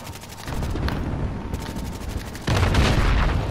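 FAMAS rifle firing bursts in a video game, a run of sharp rapid shots with a louder, denser burst near the end, close and loud.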